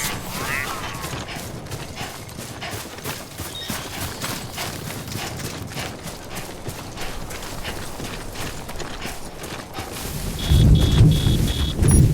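Timefall rain hisses steadily in Death Stranding, with clicking, ratcheting mechanical sounds scattered throughout and a heavy rumble of thunder rolling in loud and low near the end.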